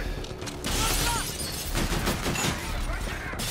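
Rapid gunfire bursts from a Call of Duty: Infinite Warfare game, with sharp repeated shots and mechanical clatter layered over busy game noise, fairly loud and close.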